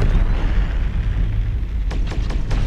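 Rocket explosion in the game Terminator: Dark Fate - Defiance: a loud, deep boom rolling into sustained low rumble, with a few sharp cracks near the end.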